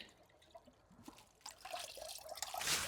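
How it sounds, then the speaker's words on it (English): Clean rainwater being poured for house plants, starting as soft, scattered drips and trickles and building into a louder, steady splashing pour near the end, with no talking. "So we have this water here, which is pure rainwater, clean rainwater."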